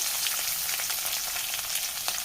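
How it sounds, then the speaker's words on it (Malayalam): Crushed onion, garlic and pepper sauté in a hot pan with a steady, close, bright sizzle that crackles evenly throughout, with no talking. "പിന്നെ കുരുമുളക് ചതച്ചതും കൂടി ചേർത്ത് നല്ലപോലെ നമുക്കിതൊന്ന് വഴറ്റിയെടുക്കാം"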